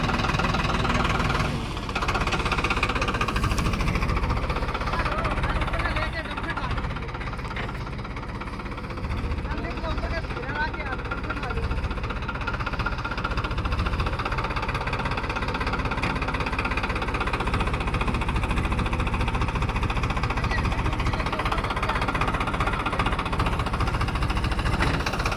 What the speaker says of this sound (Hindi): ये देखो ट्रैक्टर को घुमा रहा है,